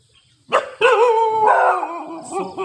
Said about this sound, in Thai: เห่าอย่างเดียวไม่กัด